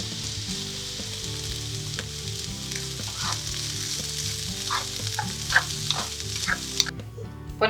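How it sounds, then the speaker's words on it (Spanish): Tempeh sautés in a little oil in a pan, a steady bright sizzle with occasional scraping and stirring knocks. "salteamos el tempe en un poco de aceite"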